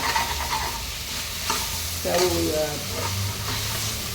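Onions with ginger-garlic paste sauté in a pan for homemade biryani, giving off a continuous close sizzle with occasional stirring scrapes. A person speaks faintly over the frying.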